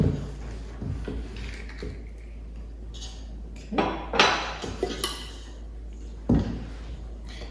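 A mixing bowl knocks and scrapes against a floured kitchen counter as cinnamon roll dough is dumped out, giving a few soft clinks and thuds over quiet room tone.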